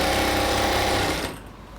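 A sewing machine stitches pant fabric in a fast, loud, continuous mechanical chatter that fades off near the end of the run.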